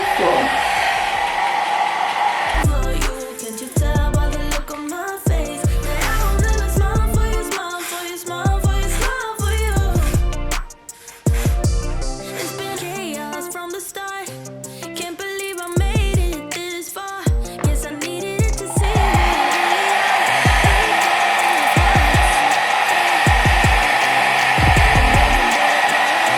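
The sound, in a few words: hair dryer blow-drying a wig on cool setting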